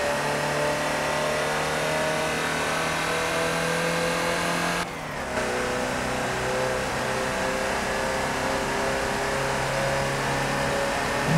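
Ford Transit van engine held at full throttle in Forza on the Nürburgring, a loud, steady mid-pitched drone with a brief dip partway through before the high revs resume.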